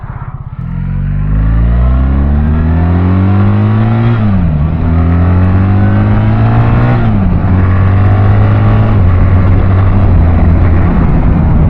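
A BMW R1300GS motorcycle ridden hard, its engine droning loud and close as it climbs in pitch through the gears, with quick dips at each quick-shifter change before pulling up again.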